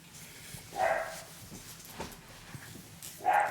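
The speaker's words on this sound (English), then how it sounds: "So much barking." A dog barks indoors at a moderate distance, two separate barks about two and a half seconds apart over a quiet room background.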